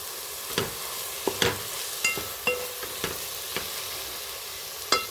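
Sago pearls fry in a pan for a bottle gourd payasam, giving a steady soft sizzle broken by sharp spoon scrapes and clicks at irregular intervals, close and moderately loud with no talking.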